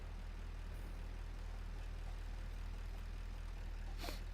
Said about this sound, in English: The tractor always sounds like it's on, even when you're not driving it, or even when it doesn't even have fuel.